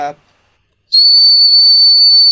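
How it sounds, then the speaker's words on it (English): A single loud, sustained high-pitched whistle blows steadily for over a second, close and piercing, following a brief moment of speech and a pause. "is that like a super loud whistle"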